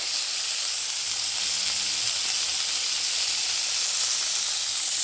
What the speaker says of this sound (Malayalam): ചൂടായി ഞാൻ ഇതൊക്കെ അതിലേക്ക് ഇടുക. ഇതൊക്കെ ഒന്ന് വഴറ്റണം.